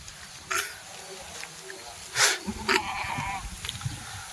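A large dairy she-goat feeding on tree leaves gives a few short bleats, near and moderately loud, scattered over several seconds while someone talks nearby.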